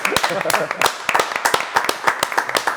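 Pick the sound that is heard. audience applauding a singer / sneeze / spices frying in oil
audience applauding a singer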